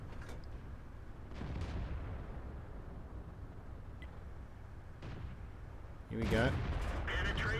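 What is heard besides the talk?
tank gun firing in World of Tanks video game, StuG III G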